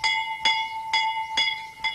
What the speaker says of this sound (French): et tout ça par le simple retentissement d'une cloche